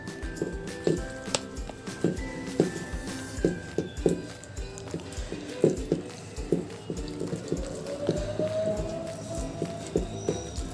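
Ragi dosa batter is mixed with water, producing a run of soft, wet rhythmic slaps and thumps at close range, moderately quiet and continuous.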